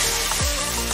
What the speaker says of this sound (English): Look at that baby sizzle!